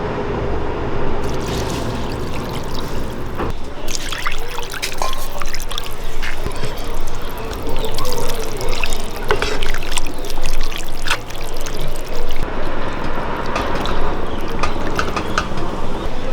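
Water poured into a pot of beef curry, a continuous splashing trickle with stirring clatter, loud and close, fading near the end.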